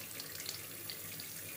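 Cold water runs steadily from a tap into a sink during face washing, a continuous close splashing hiss with no pauses and no voices.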